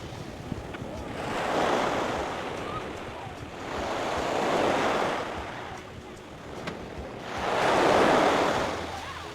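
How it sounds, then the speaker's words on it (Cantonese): Waves break on Dadonghai beach in Sanya, Hainan: three slow swells rise and fade in turn, each a soft washing roar, with a light wind rumble between them. "大東海景區最出名當然係呢個沙灘啦"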